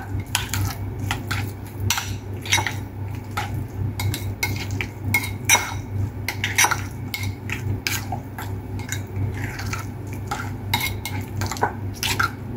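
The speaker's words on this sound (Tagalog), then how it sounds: "ihalo na natin yung ating itlog at tsaka sinapsap natin na dill. Haluin natin gamit ang kutsara" A spoon stirring chopped egg and dill into a salad in a bowl, with quick repeated scraping and clinking taps against the dish over a steady low hum, no talking.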